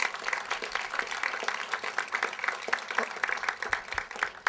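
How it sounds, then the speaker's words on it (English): Audience applause at the 2006 Mission Bay branch library opening, a dense, steady round of clapping from a crowd that holds evenly throughout. "give her a great round of applause"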